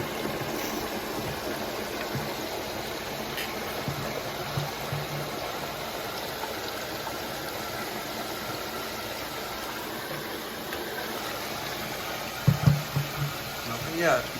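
Water rushes steadily into an Aquasana Rhino water filter system with UV, a constant broadband hiss that holds even throughout, with a few brief knocks near the end.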